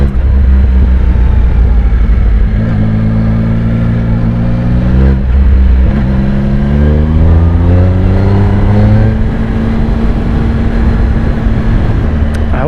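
A 2016 Triumph Speed Triple S motorcycle engine pulls in third gear at around 5,000 RPM, a loud, close, continuous droning roar with pitch rising and dipping as the throttle changes, heavy wind rush over the rider's microphone.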